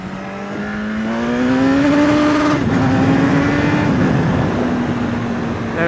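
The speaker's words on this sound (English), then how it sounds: "really hit that rev limiter a lot quicker than I expected." A 2016 BMW S 1000 RR sport motorcycle with Brembo brakes revs hard and accelerates, its engine note climbing steadily, briefly dipping at a gear change, then pulling on loud and close for about six seconds.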